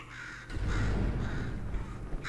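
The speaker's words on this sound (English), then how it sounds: "Could you, murder this bird for me?" A crow caws in Portal 2, a few harsh, hoarse calls in a row, close and fairly loud against quiet background hum, with no talking.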